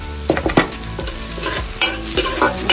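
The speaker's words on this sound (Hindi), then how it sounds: "हम लोग प्याज ऐड करेंगे, थोड़ा सा प्याज जो है ब्राउन होने देंगे।" Onion and garlic frying in a pan for chicken pasta: steady close sizzle with sharp scraping and stirring clatter from a utensil against the pan, repeated in quick bursts, no talking.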